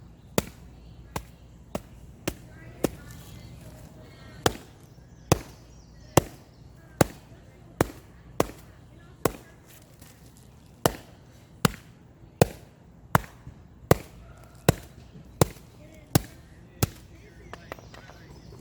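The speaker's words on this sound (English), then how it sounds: "just pounding the coconut fiber brick, leaving it in the plastic container" A hammer pounds a coconut fiber brick inside a plastic container, with about twenty sharp, evenly spaced thuds repeating roughly every three-quarters of a second.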